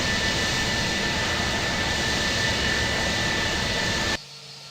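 A simulated aircraft engine in Flight Simulator X hums as a steady, broad whine while taxiing, holding constant before abruptly dropping away near the end.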